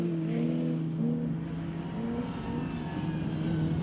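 Racing cars, a Volkswagen and a Ford Escort running side by side for the lead of a Revival A final on a race track, give a steady, loud engine drone with sustained tonal harmonics throughout.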